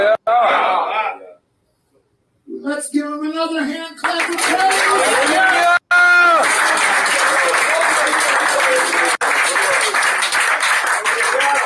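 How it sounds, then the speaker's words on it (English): A church congregation breaks into sustained hand clapping of praise, loud and continuous for several seconds after a short spoken lead-in, with voices calling out over the applause. "Let's give him another hand clap of praise."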